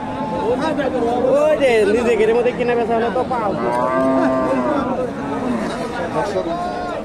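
Desi and Friesian cows and calves at the Dakumara cattle market in Bogura, lowing loudly and repeatedly close by over a steady hubbub of crowd chatter.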